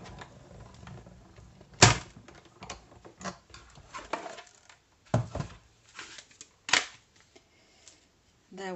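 A stamped greeting card rolled through a manual die-cutting and embossing machine on a crafting table, giving a few sharp clunks and clicks among softer handling rustles, fairly close and with no talk.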